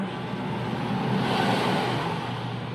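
A 2008 Honda TMX155 motorcycle engine runs very loudly and steadily at close range, a dense, continuous mechanical roar with no pauses or talk.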